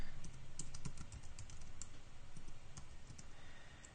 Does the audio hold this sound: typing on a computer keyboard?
yes